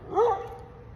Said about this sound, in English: A dog barking at me.